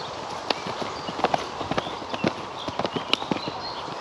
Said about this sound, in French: il y a des chevaux qui sortent du bois